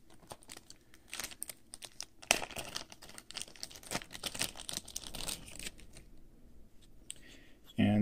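Gun grips being unwrapped from bubble wrap and a Ziploc bag, with close crinkling, rustling and plastic crackles in uneven bursts. Bubble wrap pops sound here and there, and someone talks over them at times.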